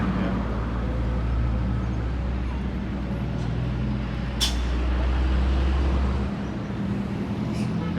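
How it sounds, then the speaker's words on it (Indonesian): A grey Sumatera Raya Trans bus rumbles past on a busy road after rain, its engine a steady low drone with a sharp hiss of air brakes midway, amid traffic noise. "Ini ada bus Sumatera Raya Trans dari arah Pekanbaru, warna abu-abu ya"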